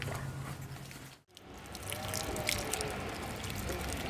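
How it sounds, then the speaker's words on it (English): Water pours and splashes steadily into buckets holding date palm seeds, a continuous gurgling rush after a brief pause. "So we are putting some water"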